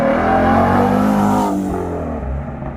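A Ford F-150 Tremor pickup truck drives and accelerates, its engine giving a loud, steady droning roar heard from inside the cab that eases off slightly toward the end.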